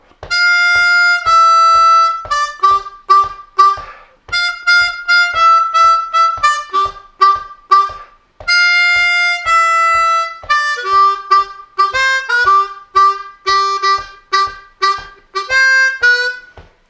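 A song played on a C harmonica, a clear reedy melody of held and short notes in phrases, with a steady low tapping beat underneath.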